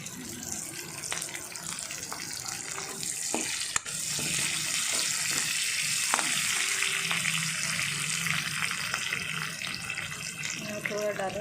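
Capsicum frying in a pan for soya manchurian, a steady close sizzle and hiss that runs throughout with a few clicks and light utensil knocks.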